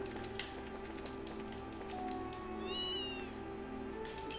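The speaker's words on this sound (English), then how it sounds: "This must be our cat." In the video game Trails in the Sky, a cat gives a short meow over steady background music, a single brief rising call near the middle, with faint tapping sounds scattered around it.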